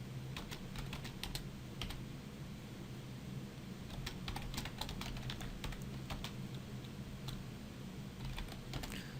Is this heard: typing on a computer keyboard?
yes